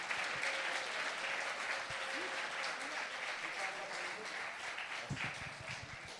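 Steady applause from an audience at a powerboat challenge event in Monaco, continuous clapping throughout with a few voices murmuring underneath.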